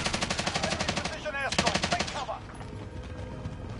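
Rapid automatic gunfire rattles through a video game shootout, dense bursts for the first couple of seconds before tapering into a quieter, lingering tail.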